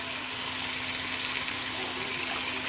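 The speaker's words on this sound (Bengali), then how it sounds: "একটু জল দিয়ে দিচ্ছি," Water poured into a cooking pot for boiling potatoes, a steady continuous rushing splash that stays even and fairly loud throughout, with no voices.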